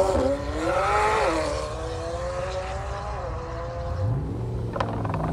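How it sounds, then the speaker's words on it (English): A McLaren 720S with a special custom exhaust revs at a supercar festival, its engine note climbing and falling in a smooth, fairly loud sweep that settles into a steady drone, then rises again at the end. "Here comes the McLaren 720S. This one's got a very special exhaust build on it"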